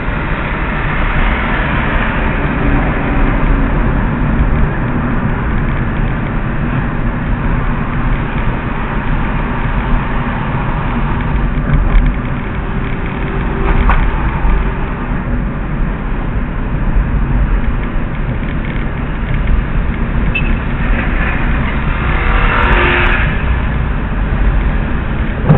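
A car engine runs with a continuous loud, rumbling drone and road noise inside the vehicle on a city avenue, steady throughout with little variation.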